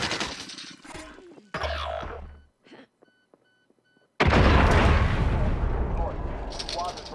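In Call of Duty: Warzone's Armored Royale mode, a vehicle's heavy blast booms and roars loudly, preceded by sharp bangs and thuds, with a brief near-silent pause before the explosion.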